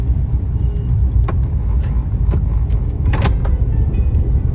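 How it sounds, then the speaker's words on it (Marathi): Busy road traffic outside a vehicle showroom: a steady, loud engine rumble with several brief higher passing sounds layered over it. "तर खूप सारी ट्रॉफिक आहे या ठिकाणी."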